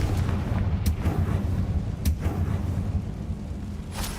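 Confringo explosive spell blasts in Hogwarts Legacy, a low rumbling roar with a few sharp cracks scattered across it, loud and close, with no talking.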